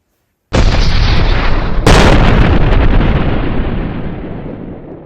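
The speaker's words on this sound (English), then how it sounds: "The ship exploded." A loud spaceship explosion effect in a school English play bursts in after a silent start, with a second sharper blast about a second later, then a long rumbling roar that slowly fades.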